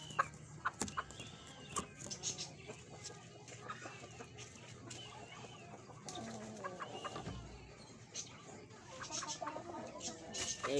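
Pigeons in a backyard coop, with soft cooing and fluttering mixed with farm-like clucking and scattered rustles, close and busy throughout, while a voice talks intermittently in the background.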